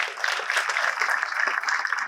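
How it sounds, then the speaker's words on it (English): An audience applauds the former mayor at the Blue Surf Bay commencement ceremony, a steady wash of clapping from a crowd that holds for a couple of seconds without a break. "Give him a round of applause."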